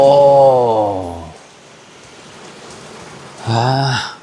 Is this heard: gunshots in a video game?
no